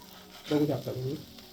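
A paneer cheela crisping on a hot pan gives off a soft steady sizzle, with a person talking in Marathi over it.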